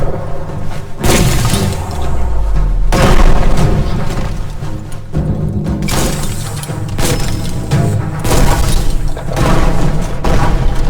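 Loud, booming explosions from a bomb lobber in the Biomutant video game, several heavy blasts with shattering debris layered over dense game sound and music.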